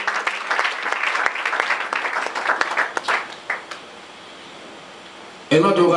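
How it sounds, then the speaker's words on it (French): A church congregation claps and applauds during worship, a dense burst of hand claps that thins out and fades. Then a sudden loud wash of noise starts at the very end. "Acclamons pour le Seigneur Jésus"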